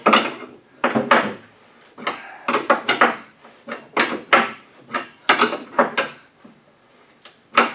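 A nut is tightened on a threaded rod in a car trunk, with close, loud metallic clanks, ratchety clicks and scrapes coming in irregular bursts separated by short pauses.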